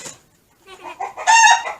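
A few short clucks from chickens on a farm, rising after a brief quiet, close and fairly clear with no talking.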